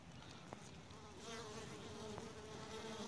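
Honeybees buzz faintly around a weak hive while foragers bring in pollen from wildflowers, a soft, steady insect hum with a few brief louder passes nearby.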